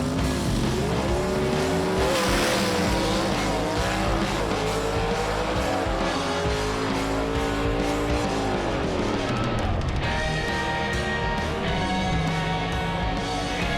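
Gasser drag race cars make a full pass down the strip, their loud engines revving hard through shifting, climbing tones with tire noise and a sharp change in engine pitch near the end.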